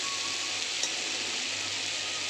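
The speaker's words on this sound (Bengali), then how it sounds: "কড়াইতে আদা রসুন পেঁয়াজ বাটা আর টমেটো কুচিগুলো দিয়ে কষাতে শুরু করেছি" Tomato pieces with ginger, garlic and onion paste sautéing in a wok, a continuous even sizzle with a faint scrape of stirring.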